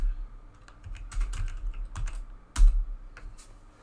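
Keystrokes on a keyboard while entering a matrix calculation, a quick irregular run of close, soft clicks with a slightly louder tap near the end, in a quiet room.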